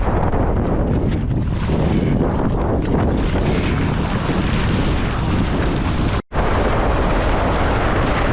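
Strong wind roars across the microphone while windsurfing on open water near Coodanup, Mandurah, on an iSonic 63 board with a 7.8 sail, a loud steady rush of air and water spray that cuts out abruptly for a moment near the end.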